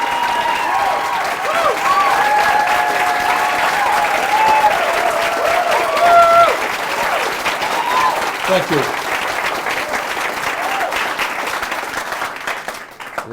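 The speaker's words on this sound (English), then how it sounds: "It's a small but loud crowd." A small but loud crowd at a Bernie 2020 organizing kickoff event applauds and cheers continuously for several seconds, the clapping dense and close, with a voice briefly thanking them before it tapers off.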